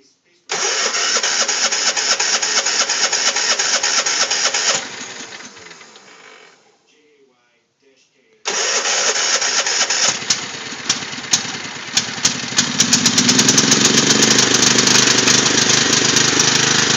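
A Yard Machine lawn mower engine cranks and starts, then runs loudly before dying out; after a pause it is started again and keeps running at a steady, close roar, with people talking.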